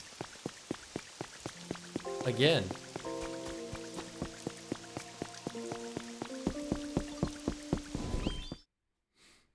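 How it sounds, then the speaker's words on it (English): Rain falls in the video game Pokemon Pokopia as a regular patter of drops over soft melodic game music, then cuts off abruptly near the end, with a brief spoken word. "to our surprise, it's actually raining"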